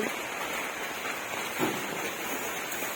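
Heavy, steady rain pours down around a house after falling all night, a continuous broadband hiss with no clear pauses and no talking.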